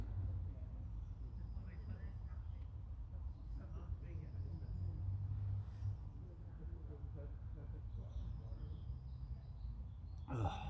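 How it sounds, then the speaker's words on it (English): A low, steady hum of distant road traffic carries through wet woodland, faint and constant beneath scattered soft sounds and faint bird calls. "In this wood you can pretty much always just hear the hum of traffic"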